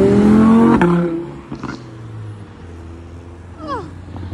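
Audi R8 V10 supercar passing on a street in Sandton, a loud engine roar and rev close by at first that fades away, followed by quieter street and crowd noise.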